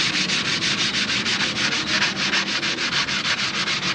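Steady back-and-forth hand sanding on wood, a rhythmic scratchy rasp repeating several times a second, close and continuous with no talking.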